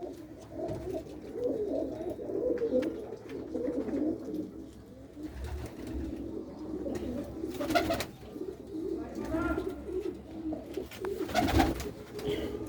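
Soft, steady cooing of several pigeons, with a low murmuring hum that continues throughout and a few brief louder rustles.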